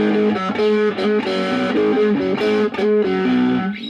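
Overdriven Steve Brown Sound SBS VS300 HSS electric guitar plays a short chord riff with distorted, sustained notes, loud and close, no voices.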